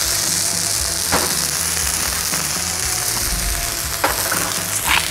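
Onions sautéing on a Cuisinart 360 griddle give a steady, close, loud sizzle throughout, with a few brief scraping clicks of a utensil.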